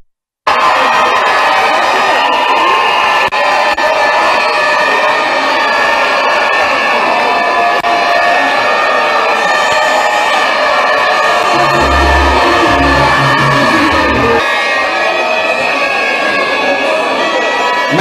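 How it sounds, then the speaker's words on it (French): A large crowd at a graduation ceremony cheers and shouts loudly to acclaim the graduates' parents, a dense, sustained roar of voices and whoops that holds steady for the whole stretch. "Acclamez les parents très très fort."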